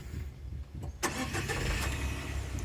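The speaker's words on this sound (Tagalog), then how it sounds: "Andar natin na smooth masyado makina nito." A DA17 van engine cranks and catches after a second of quiet, then settles into a smooth, steady idle heard up close with no talking.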